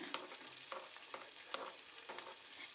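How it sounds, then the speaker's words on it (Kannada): Beetroot palya frying in a pan, a soft continuous sizzle with a bright hiss, broken by regular light scraping strokes of a spatula, heard close and on its own. "ಇದನ್ನು ಸ್ವಲ್ಪ ಫ್ರೈ ಮಾಡ್ಕೊಳ್ಳೋಣ ಸ್ವಲ್ಪ ಕಲರ್ ಚೇಂಜ್ ಆಗೋವರೆಗೂ ಫ್ರೈ ಮಾಡೋಣ"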